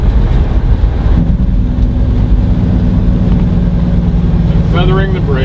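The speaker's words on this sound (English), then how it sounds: "So now I've got the Jake on." Big rig truck running downhill with its Jake brake engaged: a loud, close, steady low engine drone with a rough, pulsing rumble throughout, and a brief higher mechanical whine near the end.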